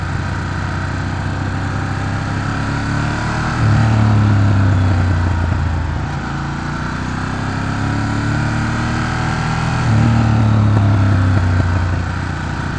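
A motorcycle engine drones loud and close while riding, its pitch rising through the gears and then dropping twice as the rider downshifts, with the rev falling and settling each time over steady road and wind noise.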